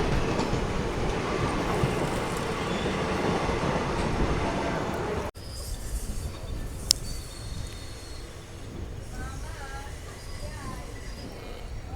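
Kottayam Express train running from Nagercoil Junction toward Kottayam, a continuous loud rumble of wheels on rails that drops to a quieter, steadier rolling sound, with a few sharp clanks and faint squeals further on.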